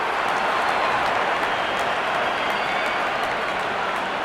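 Steady, loud applause and cheering from a stadium crowd after a six in a T20 World Cup cricket video game, UAE versus New Zealand, a dense unbroken wash of clapping with no talk over it.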